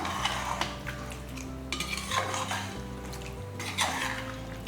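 Spoon stirring Chettinad mutton chukka with coriander and curry leaves in a metal pan, a steady run of close scraping and clinking strokes with light sizzle and a low background hum throughout.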